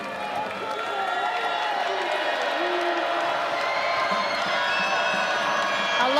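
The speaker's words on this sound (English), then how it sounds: "that the crowd is still getting into it. Even though we've got a 40-point game, they're cheering on their Tar Heels." Home crowd at a women's college basketball game between UNCW and North Carolina cheering steadily throughout, a continuous roar with whoops and shouts, with no talk heard over it.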